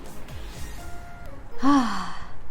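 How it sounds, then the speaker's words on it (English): Slow deep breath taken close to the mic, a breathy inhale that swells into a long voiced sigh and then trails off. "Let's take a few deep breaths."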